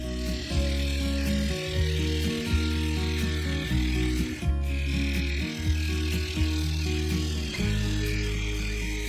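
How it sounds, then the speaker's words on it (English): A bowl gouge cuts a spalted beech bowl with epoxy resin on a spinning lathe, producing a loud, close, rhythmic grinding buzz in repeated passes, with no talk. "Using the bowl gouge, I removed the bulk of the material"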